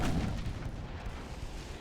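Torpedoes launch from a warship in the naval combat game Ultimate Admiral: Dreadnoughts, giving a steady deep, rumbling boom that holds loud and even for about two seconds with no talk.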